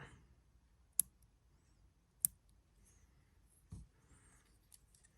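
Sharp scissor snips trimming pieces of rope for a caddis mop fly, two crisp clicks close by in a quiet room, followed by a softer muffled thump.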